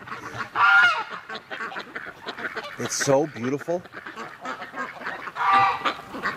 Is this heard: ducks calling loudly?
yes